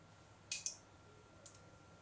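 Mustard seeds pop in hot oil for a Kerala-style cabbage poriyal, giving two quick sharp pops close together and one fainter pop a second later, over a quiet kitchen background.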